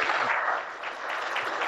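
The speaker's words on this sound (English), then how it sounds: "Tremendous applause coming from this side of the nation" Audience clapping at a supercomputing talk: a brief, even burst of many hands, steady and moderately loud throughout.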